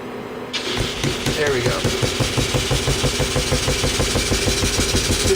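A restored Stuart No1 engine, a big single-cylinder thumper, fires up after a brief quiet moment and settles into a steady, even chugging idle close by, with a short remark spoken as it catches.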